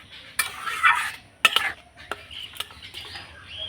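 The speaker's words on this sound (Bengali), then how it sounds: "এবার নাড়াচাড়া করে রান্নাটা করে নেব।" Chickpea dal curry being stirred in a pan, with irregular scrapes and clinks of a spoon against the metal and a faint sizzle between strokes, close by and without talk.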